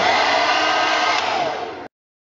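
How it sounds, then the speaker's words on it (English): A hair dryer on its hottest setting blows with a steady, loud broadband whoosh for about two seconds, then cuts off abruptly into silence. "I'm just going to use a heat dryer on the hottest setting"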